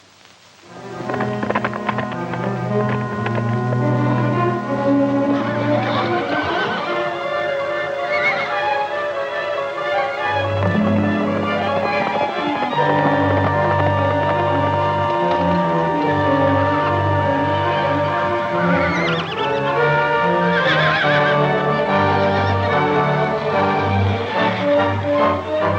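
Horses neigh and whinny repeatedly under a full orchestral Western film score from Rim of the Canyon (1949), with clip-clopping hooves mixed in, loud and sustained throughout.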